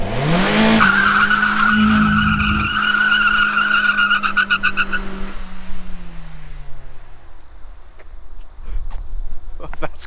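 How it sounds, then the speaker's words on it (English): A Kia car dumps the clutch, its engine roaring high as the tires skid and squeal loudly for several seconds, then the revs drop away and the engine settles, with faint voices and road noise trailing after. "you never want to do to your car is dump the clutch"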